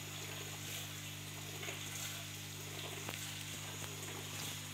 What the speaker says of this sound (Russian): поставил небольшую аэрацию, он там булькает